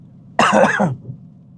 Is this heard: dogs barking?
no